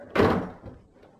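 A door swings shut with a single solid thump nearby, followed by a brief rattle as it settles.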